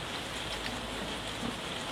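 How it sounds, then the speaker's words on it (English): Heavy rain teems down outdoors as spectators arrive at a qualifier event, a dense, steady wash of hissing patter with no pauses. "the rain just started to team down again"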